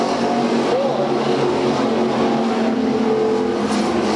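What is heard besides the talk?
race cars running on a dirt oval track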